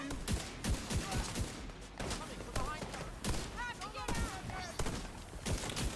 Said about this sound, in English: I could slow down some of my shots a little bit. I'm going a little too